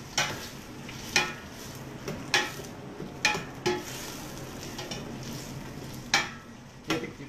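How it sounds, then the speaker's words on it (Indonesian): Prawn shells frying in hot oil in a pan while being stirred, a steady sizzle broken by sharp scraping clacks of the utensil against the pan at irregular intervals, close up and without talk. "Tetapi saya nak minyak yang menggoreng kulit udang."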